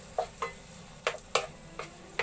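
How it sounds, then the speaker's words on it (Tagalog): Tomatoes sautéed in a pan for pinaputok na bisugo, with a soft sizzle under a handful of sharp scraping and clinking stirring strokes spaced irregularly. "Igesa po natin yung ating kamatis."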